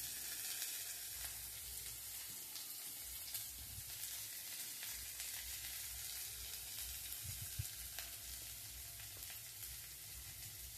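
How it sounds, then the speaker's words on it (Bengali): Chopped onions sizzle and fry in a kadhai while being stirred, a dense continuous crackling hiss with occasional soft scrapes and clicks of the spoon, close and steady with no talking. "পেঁয়াজ কুচিটা দেওয়া হয়ে গেল, এবার আমি নাড়তে থাকবো।"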